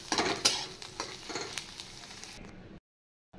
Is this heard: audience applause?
no